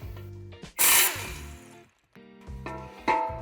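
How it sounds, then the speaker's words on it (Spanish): A power tool works a screw out of a Tesla towbar crossmember in short bursts, a whirring motor with a loud high-pitched screech near the start, stopping and restarting. "Quitaremos primeramente el tornillo"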